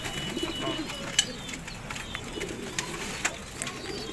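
Local pigeons in a loft give soft, low cooing that murmurs steadily through the clip, with a few sharp clicks and flutters on top and no speech.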